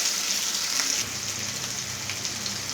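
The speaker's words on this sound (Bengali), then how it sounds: "এই সবগুলোকে ভালোভাবে একটু ভেজে নেব।" Tomato with pointed gourd peels frying in a pan for a spicy mashed bhorta, giving a steady close sizzle and crackle with no break throughout.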